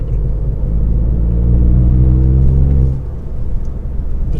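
A Mk8 Ford Fiesta ST accelerates hard out of a corner, with a loud, deep engine drone and rising harmonics that hold steady before the note drops and settles into a lower rumble.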